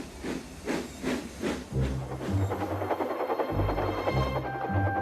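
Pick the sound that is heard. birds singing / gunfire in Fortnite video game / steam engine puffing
steam engine puffing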